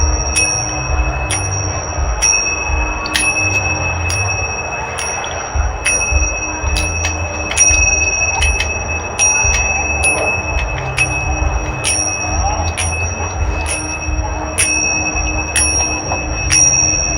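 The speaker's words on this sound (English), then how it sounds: "when you are hearing the sound of the bell, please return to the gate of the cavern" A small bell rings again and again at a quick, fairly steady pace, bright and close, above a low background rumble at an I Ching labyrinth event.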